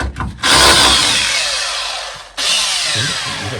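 Cordless power drill whirring on its screwdriver setting in a garage during a Chevy C-10 Turbo 350 transmission conversion: a loud sustained whine after a brief start, a short stop near the end, then spinning up again.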